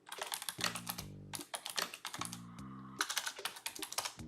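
Typing on a computer keyboard: quick, close clicking keystrokes in irregular bursts with brief pauses, crisp and clear with no talk over it.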